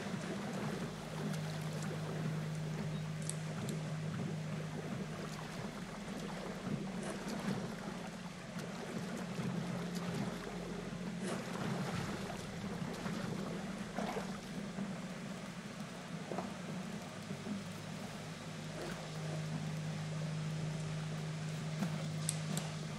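A boat moves across the water in the Assassin's Creed 3 video game, a steady low rumble with lapping, splashing water and occasional creaks and knocks running continuously at a moderate level, with no voices.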